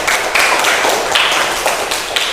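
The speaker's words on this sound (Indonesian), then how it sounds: "mana ada tepuk tangan untuk kita semua" A group of students claps together, producing a dense, bright burst of applause with loud overlapping claps that runs on steadily throughout.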